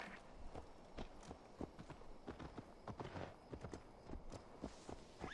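A horse in the video game Assassin's Creed Valhalla walks along, its hooves clip-clopping in a steady, close, fairly quiet rhythm with no speech over it.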